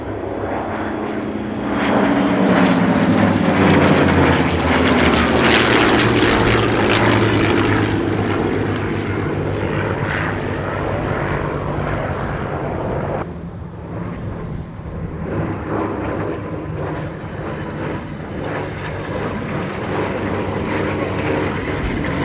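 A P-51 Mustang propeller fighter flies past at an airshow, its loud, steady engine drone swelling and shifting pitch as it passes, then holding a sustained roar with no talking.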